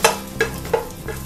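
Cashews and raisins fry in a pan, each of four evenly spaced stirs scraping sharply over a steady, close sizzle.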